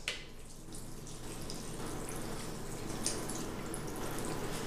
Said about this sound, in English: we're going to pour this gravy back in here